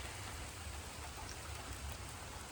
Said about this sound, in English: As you can see, it started raining. We got a little bit of a thunderstorm going on here.